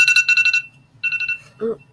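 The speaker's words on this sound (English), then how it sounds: "That's my TikTok alarm." A phone alarm set as a TikTok reminder chimes in quick bright bursts, a run of rapid tones, a shorter repeat, then a lower note, loud and close.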